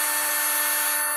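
A Black & Decker BDCDD12 cordless drill driver, a low-speed model of about 550 rpm, runs steadily at close range, giving a loud, constant motor whine throughout.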